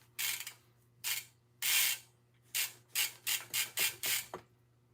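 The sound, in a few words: scrubbing rust off a bike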